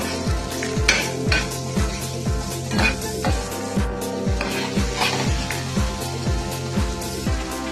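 Tomato, tamarind and salt sautéing in a pan for kara dosa masala, a continuous sizzle under rhythmic scraping strokes of a spoon against the pan, close and fairly loud, with no voices.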